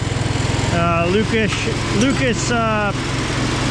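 A welder's small gasoline engine runs steadily at a constant throb, close and loud, while a person talks over it.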